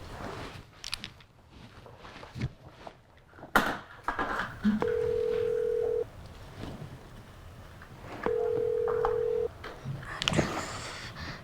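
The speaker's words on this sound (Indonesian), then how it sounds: "Teleponnya nggak diangkat sama papa." A phone call rings out unanswered on the line, two long steady ringback tones about four seconds apart over a murmur of background room noise.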